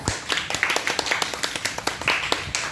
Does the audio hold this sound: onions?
no